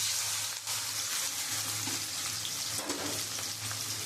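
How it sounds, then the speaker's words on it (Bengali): Prawns frying in hot oil give a steady, close sizzle with soft stirring scrapes and a low hum underneath, no voices. "তেলটা গরম হয়ে গেছে, এবার আমি চিংড়ি মাছগুলো দিয়ে দেব"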